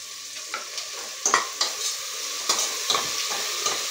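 Yogurt is stirred into a frying pan while cooking egg biryani, with a steady sizzle under repeated scraping and clinking strokes of a spoon, close and fairly loud.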